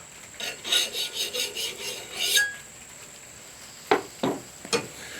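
A file rasps along the edge of a Scandinavian woodcraft knife blade to set the grind line, with a run of quick rhythmic strokes followed by a few slower, separate scrapes, close up.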